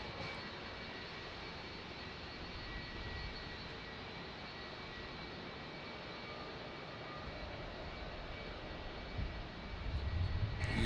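A Boeing E-3 AWACS aircraft passes overhead, a steady, broad engine roar holding at moderate loudness throughout with a low rumble swelling near the end.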